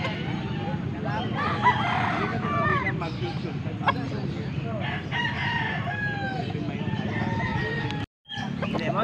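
Several roosters crow repeatedly among clucking fowl, with people chatting nearby in a busy, noisy setting in Angeles, Pampanga.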